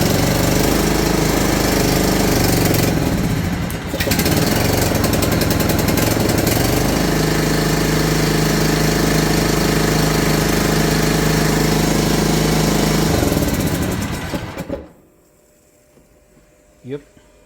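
A John Deere Z225 zero-turn mower engine runs loud and steady with a rough, knocking chatter and a slightly lean carburetor, started on choke; it cuts off abruptly near the end, leaving near silence.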